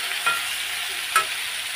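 Potatoes frying in a pan for a Bengali aloo posto, a steady soft sizzle broken by two quick scrapes of a spatula, close up and with nobody speaking.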